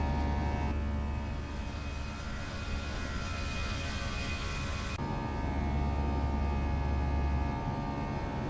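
FSLabs A321 with CFM engines climbing out in Microsoft Flight Simulator, a steady droning engine roar with a high whine, constant and even, shifting tone slightly midway, no speech.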